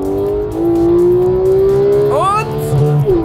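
A race car engine accelerates hard on a track, its note rising steadily before a quick shift and another surge, loud and close throughout.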